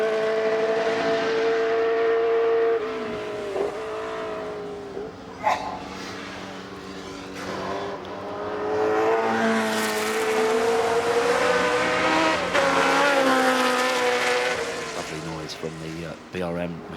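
A BRM racing car climbing the hill at Goodwood, its engine note rising and falling through gear changes under a commentator who talks almost throughout.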